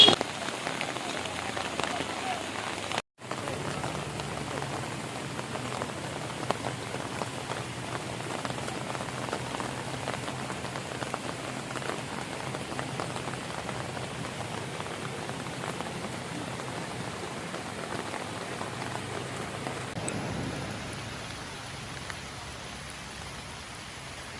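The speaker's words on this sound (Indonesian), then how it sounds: "Namun dengan kondisi hujan yang terus-menerus mengguyur Pulau Nias" Heavy rain pours steadily on Nias Island beside an eroding landslide-damaged provincial road, a dense continuous hiss that stays loud throughout with a brief dropout early on.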